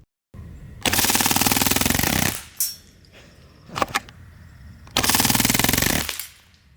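Umarex Strike Force .177 BB blowback rifle fired on full auto, two long rapid bursts of sharp, evenly spaced mechanical cracks, each lasting over a second, with a few scattered single clicks and handling noises in between.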